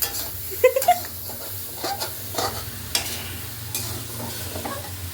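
Food stirred in a hot pan sizzles and fries steadily while a utensil scrapes and clinks in irregular strokes close by, with sparse background noise.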